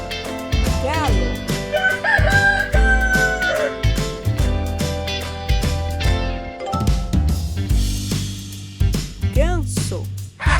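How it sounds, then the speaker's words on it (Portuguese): A rooster crows a few times, loud and near, with clucking fowl in between, all set against steady background music in an animal-sounds game. "galo"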